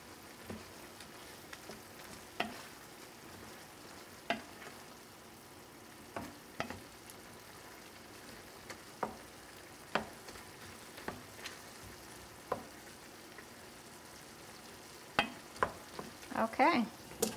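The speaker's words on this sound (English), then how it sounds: "let's give these prawns one more stir" Prawns frying in a pan as they are stirred: a faint low sizzle broken by sharp, irregular clicks and scrapes of the utensil against the pan, with a cluster of quick knocks near the end.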